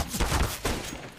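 Rapid bursts of video game gunfire crackle loudly through a short stretch, dense overlapping shots with a heavier thump near the start and another burst midway, no talk.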